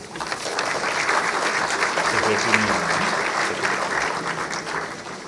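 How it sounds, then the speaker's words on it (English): An audience at the National IP Awards and IP Conference gives dignitaries a warm welcome with sustained, even applause that swells slightly mid-way, with some voices mixed in. "please welcome our esteemed dignitaries with a warm round of applause"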